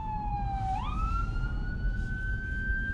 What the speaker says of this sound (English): Oh, and we have an ambulance coming through.